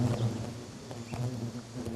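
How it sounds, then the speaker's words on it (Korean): Angry wasps swarm and rush to attack after a hand moves to shoo them, a dense, continuous close buzzing with steady wingbeat hum throughout. "손을 움직이며 말벌을 쫓으려 하자마자 매섭게 달려드는 말벌들."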